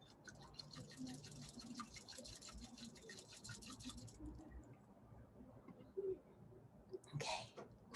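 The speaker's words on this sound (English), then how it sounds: "So I'm going to whisk my matcha." Matcha tea whisked by hand with a bamboo whisk, a fast, steady scratchy swishing for about four seconds, close and fairly quiet, followed by a pause and a few louder knocks and rustles.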